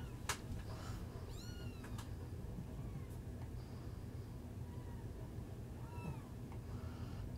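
Several kittens for sale meow in short, rising calls scattered over a steady low background murmur, some near and some a little farther off.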